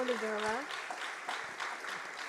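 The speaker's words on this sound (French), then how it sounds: "je demande encore une fois d'applaudir donc notre amie Nancy Snow aux États-Unis." Scattered crowd applause with a voice speaking over the start, the clapping continuing steadily but fairly soft and distant.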